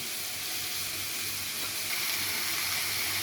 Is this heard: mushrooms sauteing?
yes